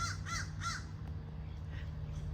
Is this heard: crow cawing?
yes